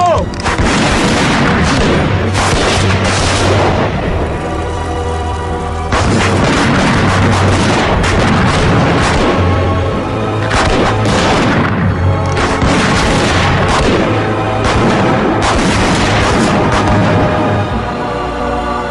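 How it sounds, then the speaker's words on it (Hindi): Heavy movie explosions boom and roll almost without pause, loud and dense, with gunfire-like blasts layered over a sustained rumble in a Hollywood fantasy action scene dubbed in Hindi. "उड़ा दो, सबको उड़ा दो।"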